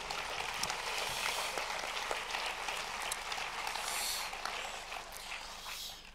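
Audience applause fills a hall at a film festival closing ceremony, a dense, fairly soft wash of many hands clapping that swells slightly before easing off.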